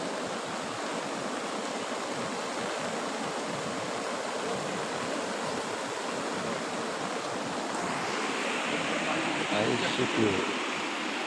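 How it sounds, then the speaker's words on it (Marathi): Loud, steady rush of floodwater after overnight rain pouring through a village stream in Datala, Kandhar, a dense continuous roar with a voice briefly audible near the end. "हा गावातून पाणी पूर ओसंडून वाहत आहे"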